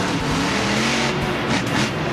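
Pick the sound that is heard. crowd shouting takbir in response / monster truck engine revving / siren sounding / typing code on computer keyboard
monster truck engine revving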